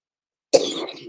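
A single close cough bursts out after a moment of silence, then trails off into a brief raspy tail.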